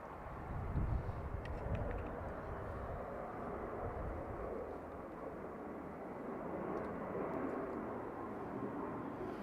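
A fixed-wing aircraft arriving on runway 28 left at Dublin Airport, a steady broadband engine roar that stays loud and continuous throughout, swelling slightly near the start.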